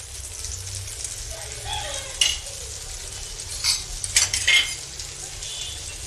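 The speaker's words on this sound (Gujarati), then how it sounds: "પુડલાની ફરતે તેલ નાખી દઈશું." Chickpea flour pudla crackling and sizzling in a pan as oil is poured around it, with spoon scrapes and clinks and a louder burst of frying toward the end.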